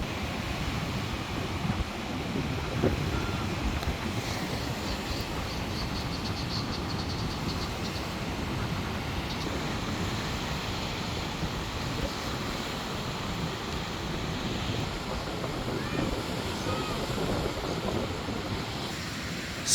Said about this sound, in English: So, a little breezy right now. Let's see what's happening out here at the beach.